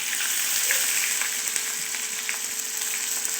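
Bay leaf, chili and onion dropped into hot oil in a pan, a loud continuous close sizzle with faint scraping and tapping from stirring.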